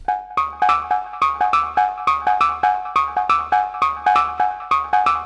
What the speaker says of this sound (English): Plug Borders is great for hypnotic techno melodies